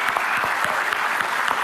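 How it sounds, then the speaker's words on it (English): An audience at an awards ceremony for video games applauds in a dense, continuous burst of many hands clapping, filling the whole moment with no speech over it. "we wanted to ask everyone here to give yourselves a round of applause."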